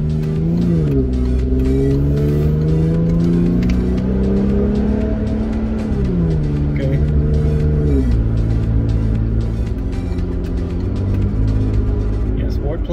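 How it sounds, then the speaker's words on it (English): A Jeep fitted with a Pedal Commander throttle controller accelerates hard, its engine revving up through several gear shifts with rising and dropping pitch, loud and close from inside the cabin, with people talking over it. "So let's do a little acceleration test."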